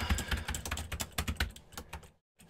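Rapid close clicking of keys on a computer keyboard as a command is typed, an uneven burst of keystrokes ending in a brief silence.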